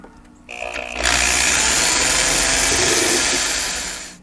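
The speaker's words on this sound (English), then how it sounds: "drill some holes in the front of the drawer" A power drill whirs up at close range, drilling holes in a wooden drawer front, running steadily with a high, buzzing whine for several seconds before starting to wind down.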